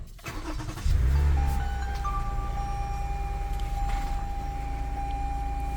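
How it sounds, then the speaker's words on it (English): A car engine cranks and catches after a leaking VVT solenoid is replaced, settling into a loud, steady idle close by with a faint whine running through it. "Now I will start the engine to see if there will be a check engine light."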